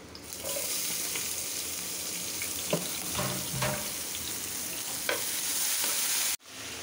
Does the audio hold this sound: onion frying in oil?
yes